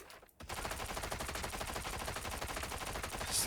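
Rapid sustained automatic gunfire from a Punisher turret in a hero shooter video game, a dense continuous rattle of shots starting abruptly after a short pause and running loud to the end.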